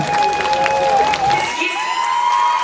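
Loud crowd applause and cheering at the Karakuz 2023 music festival in Almetyevsk fill the clip, with whoops rising over steady clapping throughout, close and sustained.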